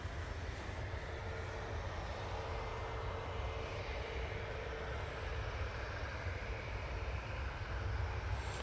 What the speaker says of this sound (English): So this Ryanair is off to Lisbon